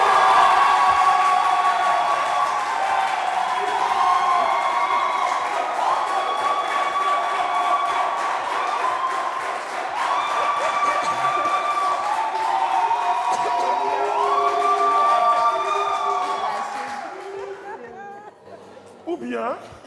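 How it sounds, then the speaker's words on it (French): A French television game show studio audience votes by applause, with cheering, shouting and excited crowd voices carrying loudly over clapping for most of the stretch before thinning out near the end. "public, par applaudissement, est-ce que la première étoile pour cette émission va du côté de l'équipe du Mental de Suzy?"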